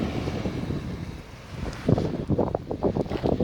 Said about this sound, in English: Whoa, it's getting windy.